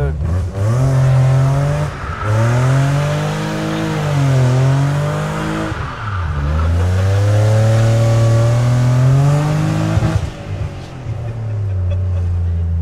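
A car with a welded rear axle revs hard through a quick spin start, its loud, close engine note rising and falling in repeated sweeping surges with no break.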